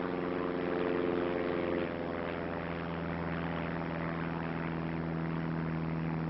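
A propeller airliner flies over Belgium with an air force escort, giving a steady, close droning engine hum with a low, even pitch that holds unchanged throughout.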